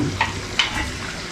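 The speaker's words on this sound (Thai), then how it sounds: "ใส่มันฝรั่งที่เราหั่นเป็นสี่เหลี่ยมไว้นะคะ" Cubed potatoes go into a pot of simmering Thai massaman curry with tender beef. Two soft, brief splashing knocks land close by over a low, steady bubbling.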